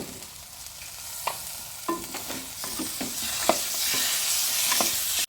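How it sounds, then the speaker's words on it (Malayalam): Chicken curry with tender jackfruit, curry leaves and salt being stirred in a pan: scraping spoon strokes and soft clacks over a steady frying sizzle that grows louder, close by, with no voices. "ഇനി നന്നായിട്ടൊന്ന് മിക്സ് ചെയ്യും"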